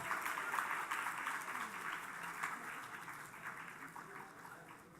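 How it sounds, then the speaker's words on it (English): Audience applause at a pharmaceutical business leadership awards ceremony, a fairly faint crowd clapping that begins strong and gradually thins and fades over about five seconds, with a bit of voice mixed in. "can we have a big round of applause?"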